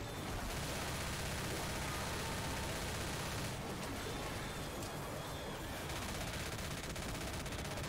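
Dense, continuous gunfire from Left 4 Dead rattles in rapid bursts, heard close and loud through a noisy, crowded mix with no clear gaps.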